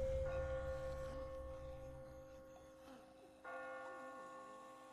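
Church bells ring in The Walking Dead video game, a sustained tolling tone that fades slowly and then sounds again with a fresh strike, moderately faint against a low background hum.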